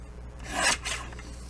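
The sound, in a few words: cutting a 2.5 inch paper strip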